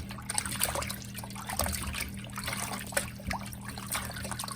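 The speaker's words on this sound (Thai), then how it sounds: "ก็ล้างออก ล้างความคาวล้างเมือก ล้างอย่างมันออก" Salted fish being rinsed in water while preparing Lao pa jao, a steady trickle and splash of running water with small sloshing bursts, close and moderately quiet, with no talking.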